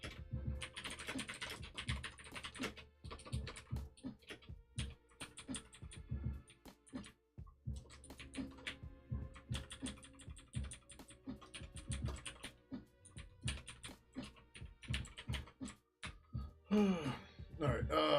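Typing on a computer keyboard while coding, rapid irregular bursts of key clicks with short pauses, close and crisp, with a voice briefly heard near the end.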